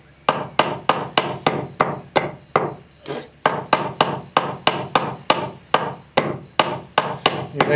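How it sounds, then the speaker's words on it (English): Nails being hammered into a wooden birdhouse, a close, loud, steady series of about two dozen sharp knocks with one brief pause midway. "You're nailing nails about as good as Pappy today"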